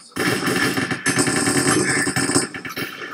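Rapid automatic gunfire in a Minecraft cops-vs-robbers match, loud and near, with dense bursts of shots almost continuous across the stretch and brief gaps between volleys.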